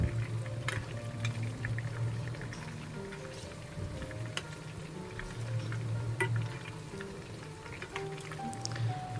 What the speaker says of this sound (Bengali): এখন আমি সবগুলো চিকেন একটু উল্টিয়ে দিচ্ছি।